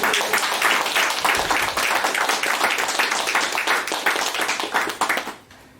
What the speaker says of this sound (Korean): 김혜지 의원님께 박수 한번 더 부탁드립니다